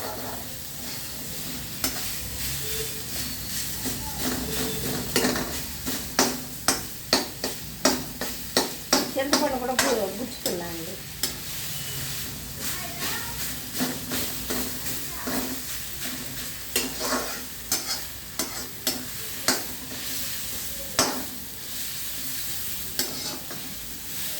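Mint leaves and tamarind frying for chutney in a pan on a low flame, with a steady soft sizzle and repeated spoon stirring clinks close by, no talk over it.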